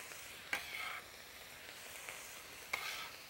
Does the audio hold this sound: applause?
no